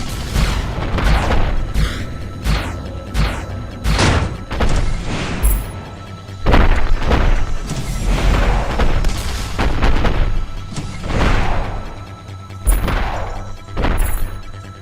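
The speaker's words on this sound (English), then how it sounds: "the rockets hit the rocks, so I can push the rocks into the rockets" Rockets exploding against rocks in a retro shooter game, a rapid series of loud booming blasts and crashes at irregular intervals, each with a sharp onset and short rumbling decay, continuing through most of the stretch.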